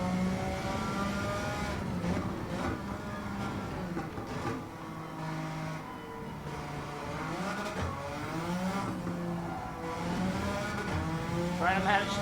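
A Suzuki Escudo engine revs hard in Gran Turismo 7 on the Nürburgring Nordschleife with traction control off. The pitch climbs and drops through gear changes, with tire squeal in places and someone talking over it at times.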